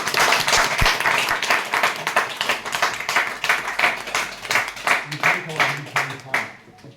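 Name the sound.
audience clapping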